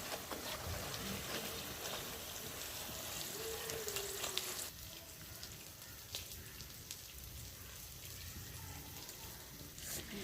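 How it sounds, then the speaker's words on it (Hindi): Finger chips deep-frying in hot oil, a steady crackling hiss that drops slightly in level midway and continues softly without talk. "आप देख सकते हैं कि फिंगर चिप्स बिल्कुल अच्छे तरीके से फ्राई हो गए हैं"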